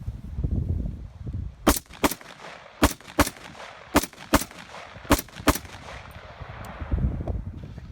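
An FNH SCAR-17s rifle fitted with a TA11 ACOG scope is fired outdoors: about nine loud, sharp shots, mostly in quick pairs separated by short pauses, with a low rumble between them.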